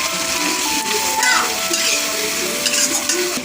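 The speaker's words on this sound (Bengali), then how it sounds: "এবার আমি পোস্ত বাটাটা দিয়ে দেবো।" Poppy seed paste is added to okra frying in a pan, with a steady close sizzle under quick stirring and scraping of a utensil, and no talking over it.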